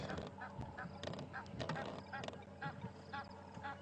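Geese honk repeatedly at a wildlife safari, a mother goose with goslings nearby, making rough, fairly faint honks and calls that overlap, with no talking.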